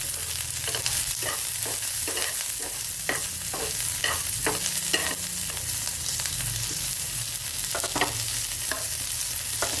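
Crushed garlic sautéing in a little oil in a pan, a steady sizzle broken by frequent rhythmic scraping and pressing taps of a spoon, close and alone without voices.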